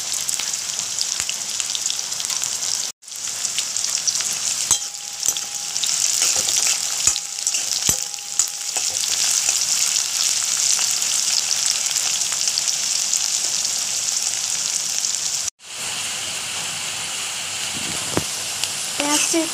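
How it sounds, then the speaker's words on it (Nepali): Onions fry in a pan until browned, giving a steady, close sizzle with occasional clicks and scrapes of stirring, while a voice speaks faintly now and then. "अब यसलाई रातो भइन्जेलसम्म फ्राई गर्छु है, ब्राउन हुने गरी रातो।"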